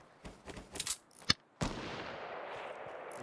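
Sniper rifle fire in a Fortnite match: a few faint earlier pops, then two sharp, loud cracks in quick succession, the last trailing into a long echoing decay.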